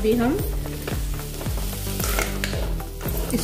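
Peas with garam masala are stirred in a sizzling frying pan. A spoon scrapes the pan in regular strokes about twice a second over a steady close frying hiss.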